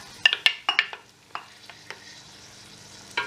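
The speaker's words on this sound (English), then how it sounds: "And give it a good stir" A spoon stirs browned onions with the pilau mixture in a pot, producing a few sharp scraping knocks early on followed by softer sizzling, occasional clinks, and a final pair of stirs.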